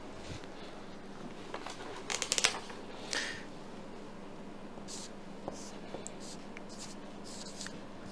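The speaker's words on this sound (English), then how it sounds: "first I'll write it down" Pen or pencil writing on paper, jotting down an invention idea, a brief cluster of scratchy strokes followed by a few scattered faint scrapes over a steady background hiss, close but quiet.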